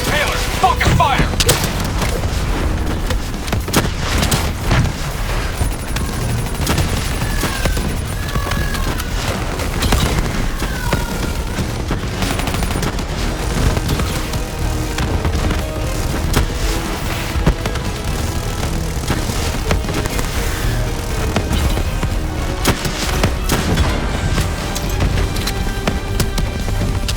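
Heavy gunfire and booming explosions pound continuously during a firefight against the Manticore in Call of Duty: Black Ops III, loud and dense throughout with voices talking over the battle.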